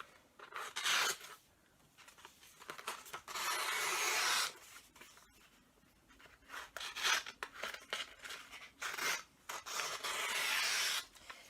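Paper strips for Christmas paper chains are cut one after another, each cut a close, crisp rasp that runs about a second, with quieter handling between the bursts.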